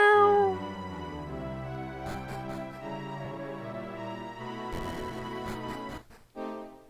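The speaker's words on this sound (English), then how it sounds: "There's a kitty," A cat meows in a video game, a drawn-out plaintive call at the start, followed by melodic tones with no speech.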